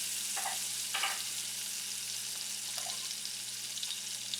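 Scallops sizzle in brown butter with thyme as they are basted, a steady broadband frying hiss with a few brief spoon-scrape accents near the start, close and moderately loud without any talk.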